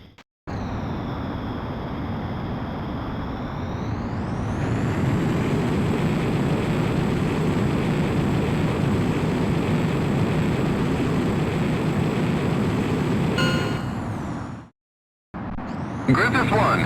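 An F-15S/MTD jet fighter in Ace Combat X takes off, its engine whine climbing into a loud, sustained roar that holds steady for many seconds before cutting out abruptly near the end.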